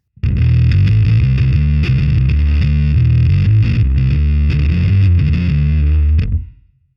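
Loud bass guitar through the fuzz effect of a Line 6 POD Express Bass pedal, a saturated buzzing tone playing a continuous riff of changing low notes before cutting off and ringing out, no voices.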